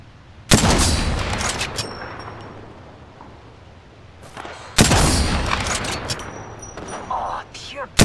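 Video game gunfire in a shooter, with loud bursts of weapon fire and booming impacts in two heavy waves, separated by a decaying rumble.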